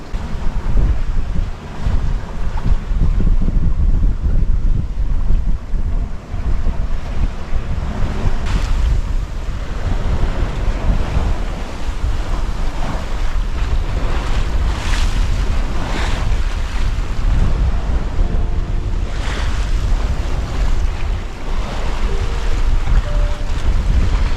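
Ocean waves and strong wind roar around a sailboat running fast through 17 to 20 knot winds, loud and constant with buffeting wind noise on the microphone and surging wash throughout.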